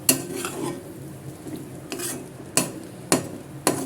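Egg idli upma is stirred in a pan with a spoon, giving scraping, clinking strokes over a soft sizzle, with several sharp taps on the pan near the end.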